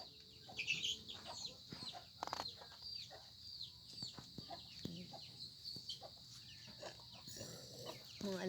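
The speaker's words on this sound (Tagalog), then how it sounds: "Mga alaga kong manok." Several chickens cluck and chatter softly at close range, with scattered short calls and faint background rustling.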